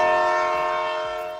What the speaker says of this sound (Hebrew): יואו, זה קול של רכבת נוסעת.